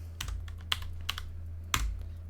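Typing on a computer keyboard: a handful of sharp, close key clicks in an irregular rhythm over a low steady hum.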